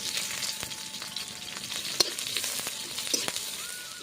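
Chopped onion fries in oil with cumin seeds and two dry red chillies, a soft, steady sizzle with a few light spatula taps and scrapes, close by.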